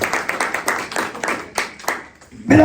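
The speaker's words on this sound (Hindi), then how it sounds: "बहुत सारी तालियां" A church congregation claps and applauds in a steady, dense patter of many hands, moderately near, before a voice cuts in at the end.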